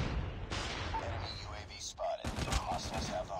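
Submachine gun fire in Call of Duty Mobile crackles in rapid bursts of close, sharp shots over several seconds, mixed with other game sounds and a talking voice.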